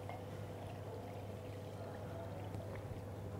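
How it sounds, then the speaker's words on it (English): Water poured over short ribs in a pan, a steady, close liquid rush that holds evenly throughout with no talking. "So we're going to cover it with water"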